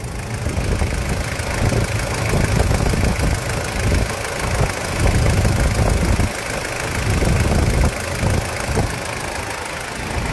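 A healthy diesel engine in a Toyota SW4 idles close by with a steady, even rumble and light rhythmic knocking, running alone without voices.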